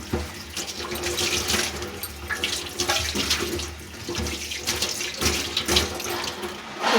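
Tap water runs steadily into a sink as mangoes are washed, a close, continuous gushing splash that shifts slightly as the fruit is handled, with no voices.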